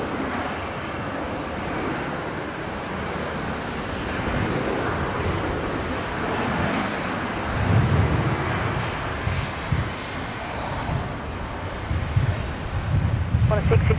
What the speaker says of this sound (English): Qantas 616 just touching down there from Melbourne. Runway 19 left.